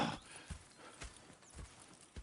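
Video game horse hooves clip-clop at a steady walking pace, a handful of soft, moderately close thuds spaced about half a second apart over a faint background.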